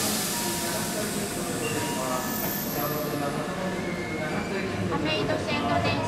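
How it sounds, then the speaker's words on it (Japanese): A Tobu Kameido Line train departs Hikifune Station for Kameido, rumbling with hissing and rising mechanical whine as cars start moving, steady and fairly loud, with indistinct station announcement speech faintly present. "5番線から亀戸行きが発車します。"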